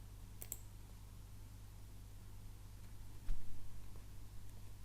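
A computer mouse clicks a button on a care records website. Two quick, crisp clicks come close together near the start, then a fainter tap later over a steady low hum.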